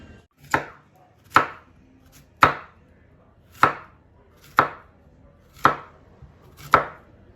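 Vegetables for Congolese pondu being chopped on a board, seven crisp, evenly spaced knife strikes about a second apart, close and loud against a quiet background with no talking.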